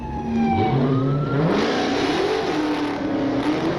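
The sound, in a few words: Black Dodge Hellcat car engine revving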